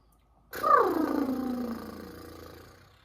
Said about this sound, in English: let's do a horse lip.